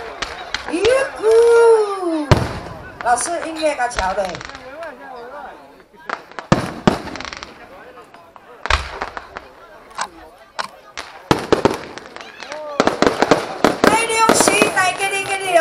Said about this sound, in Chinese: 烟火秀开始。